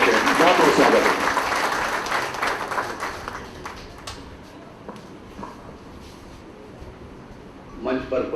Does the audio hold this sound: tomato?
no